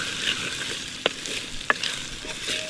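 Wet potatoes dropped into hot tempering oil for Gujarati dal bhaat, giving a steady close hiss and sizzle with a couple of sharp crackles and pops, and no talking.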